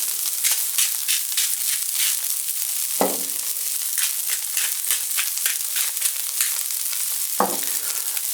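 Broccoli florets, seasoned with salt and pepper, searing in shimmering hot oil in a pan: a steady, bright sizzle throughout, broken by two louder clanks of a stir near the start and end.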